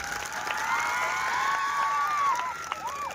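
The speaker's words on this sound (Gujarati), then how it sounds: "ફરીથી એકવાર જોરદાર આયોજકો માટે તાળીઓનો ગડગડાટ થઈ જાય" Crowd applause and cheering for the organisers at a tribal community charity trust's commemorative gathering, a steady wash of clapping with rising shouts and whistles throughout, voices calling out over it.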